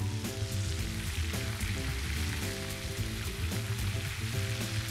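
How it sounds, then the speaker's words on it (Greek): Sand smelt sizzling in a large quantity of hot frying oil, a dense continuous crackle and hiss with a steady low hum beneath, fairly loud and close with no talking. "επειδή τηγανίζουμε πάρα πολύ ποσότητα, φουσκώνει το λάδι"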